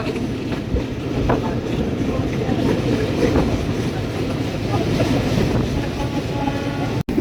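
A mail train rolls into Shahajatail railway station on the Rajbari to Bhatiapara run, a steady close rumble with clattering wheels and rail noise throughout, ending in a sharp knock.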